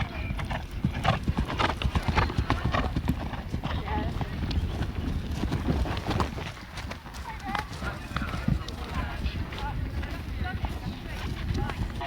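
A horse canters through an eventing jumping round at Barbury Castle, its hooves drumming in a steady, close rhythm that runs throughout, with voices talking over the hoofbeats.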